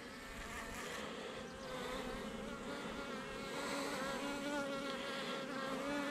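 A honeybee swarm hums steadily and loudly around a freshly marked queen, a dense close buzz of many wings holding without a break.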